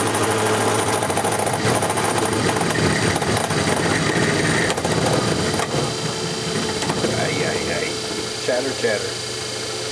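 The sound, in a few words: machining chatter while refinishing a Craftsman punch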